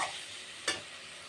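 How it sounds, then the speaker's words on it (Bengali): Spice masala stir-fried over medium heat for a rohu fish curry with cauliflower gives a faint, steady sizzle, with one short scrape or clink about halfway through. "তো এখান থেকে আমি 2-3 মিনিট মিডিয়াম আঁচে ভালোভাবে কষে নিলাম।"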